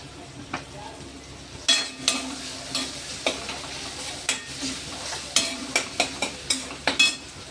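A spoon scrapes rhythmically around a pan of sizzling chickpea-leaf vegetables, steady strokes repeating about twice a second, close by.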